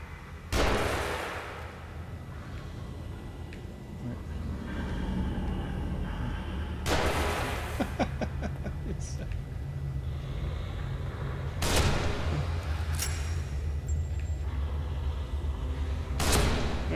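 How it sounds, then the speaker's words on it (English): Sniper rifle fire in the horror video game The Evil Within, with a few sharp, loud shots spaced several seconds apart over a low rumbling game ambience. "I'll just... get out the sniper rifle and shoot him."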